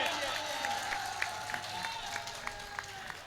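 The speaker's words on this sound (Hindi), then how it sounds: "एक बार जोरदार तालियां बजाइए।" Audience applause at a Banaras mushaira poetry gathering: steady crowd clapping with scattered sharper claps, running alongside a voice speaking over it.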